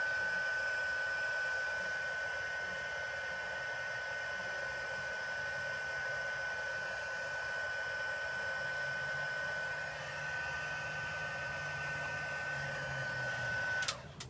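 A hot air heat tool used for card making blows continuously with a steady whooshing roar and a high whine, running near and unbroken before cutting off at the end.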